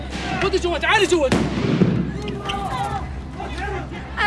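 Stun grenades going off in East Jerusalem during clashes near Al-Aqsa Mosque: a loud, sharp blast bursts out amid constant crowd noise and shouting, and voices talk over the scene throughout.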